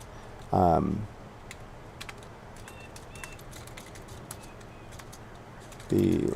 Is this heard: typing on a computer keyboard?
yes